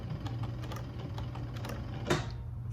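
An industrial sewing machine stitches a shoe upper, a steady mechanical whir with regular needle clicks running throughout, ending in a brief sharper burst near the end over a low constant motor hum.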